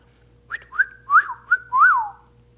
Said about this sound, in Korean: 휘파람 불 수 있죠?